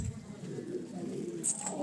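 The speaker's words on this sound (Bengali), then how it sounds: "এই দেখুন কত কবুতর উঠেছে।" Pigeons coo low and soft at a busy pigeon market, a brief murmuring call with faint crowd noise and a short high chirp near the end.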